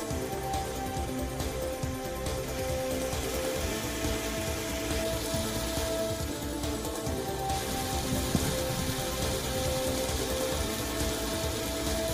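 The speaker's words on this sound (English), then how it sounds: "A strong hailstorm was battered several municipalities in the Barcelona metropolitan area of Spain." A strong hailstorm pelts the Barcelona metropolitan area in Spain, a dense, steady patter of hitting ice that holds evenly loud throughout.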